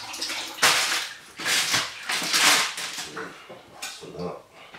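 An apple is rinsed under a running kitchen tap, giving several loud, irregular bursts of splashing water close by, separated by short quieter gaps.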